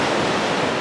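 Baltic Sea surf washes onto the beach at Usedom in a steady, loud, broadband rush, mixed with wind blowing across the microphone, and no voices are heard.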